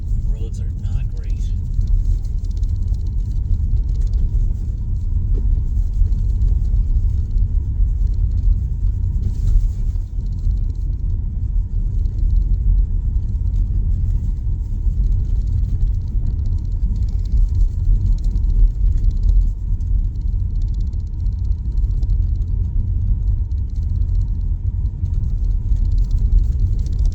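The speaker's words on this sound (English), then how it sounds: "This is an all-wheel drive 2026 Model Y." An all-wheel drive 2026 Tesla Model Y drives along snowy New England roads after a snowstorm, giving a steady, loud low rumble of road and cabin noise that holds evenly throughout with no distinct events.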